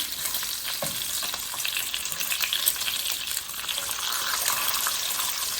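A pan of bacon frying, cooked in batches from a whole pound, crackles and sizzles loudly and continuously up close, with occasional sharper pops and no talking.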